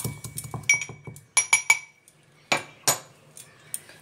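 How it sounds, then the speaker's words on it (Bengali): Roasted mustard seeds being pounded into powder for kasundi, heard as a quick run of sharp, close metallic knocks that pause and return in shorter bursts, with no voices. "আমি কুটে নেব, এইভাবে করে কুটে নেব। কুটে নিয়ে এটাকে একটা পাউডার বানিয়ে নেব।"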